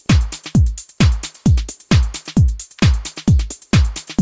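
Chopped vintage breakbeat layered into a minimal deep house drum track, with punchy kicks and snares in a steady, loud looping pattern and no voices.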